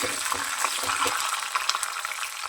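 Peanuts and green chillies fry in hot oil in a pan, making a dense steady sizzle with light crackles and occasional stirring scrapes, close and moderately loud.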